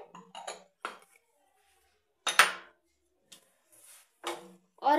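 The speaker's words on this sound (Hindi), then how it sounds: "तो सबसे पहले हम बाउल में प्याज डालेंगे खीरा डालेंगे ये हमने गाजर लिया उसे भी डाल देते हैं" Chopped onion, cucumber and carrot land in a bowl in separate clattering bursts, each a short clink and rattle against the bowl with quiet gaps between.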